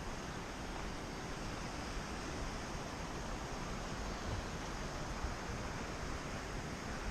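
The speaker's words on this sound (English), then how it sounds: "The creek, which normally flows under the road, I think there's too much water for that little" Creek water flowing across a road where the drainage tube is overwhelmed, a steady, dense rushing wash that holds at an even level throughout, with no voices.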